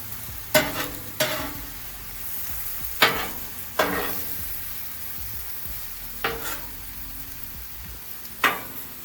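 Zucchini sizzling on a Blackstone griddle with grilled veggies, a steady close frying hiss broken by about six sharp spatula scrapes and stirs at uneven intervals.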